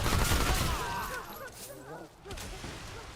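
Rapid SMG fire rattles in dense bursts in the Remnant 2 video game, loud at first and then thinning as a voice talks over the shooting.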